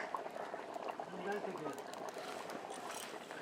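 Mutton and potato curry bubbles in a pot with a dense, continuous simmering crackle and soft pops, fairly quiet and close.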